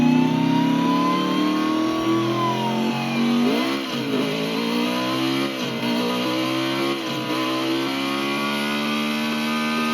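A muscle car engine in the Burnout Legends racing game revs up loudly and alone, its pitch climbing and then dropping sharply at a few gear shifts before rising again.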